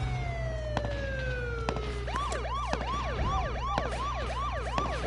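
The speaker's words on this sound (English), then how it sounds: "The sirens are irritating." Sirens wail in a PS4 video game: a falling tone at first, then a rapid, repeating yelp cycle that stays steady and fairly quiet over a low engine hum.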